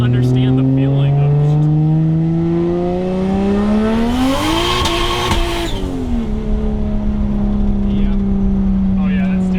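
A 600-horsepower 1JZ-swapped Lexus SC300 accelerates hard with wheels spinning through first and second gear, its engine note climbing loud and close with a surging rev peak midway, while people talk over it from inside the car.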